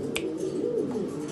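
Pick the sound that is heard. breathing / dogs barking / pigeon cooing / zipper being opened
pigeon cooing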